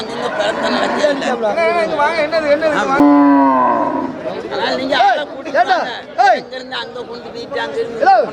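Cattle moo repeatedly at a cattle market in Melapalayam, several low drawn-out calls close by, over a busy background of people chattering.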